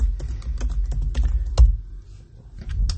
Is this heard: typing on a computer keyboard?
yes